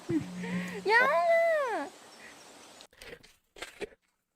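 A wild cat meows in a drawn-out, rising and falling call, followed by a few short scuffling noises and brief quiet gaps.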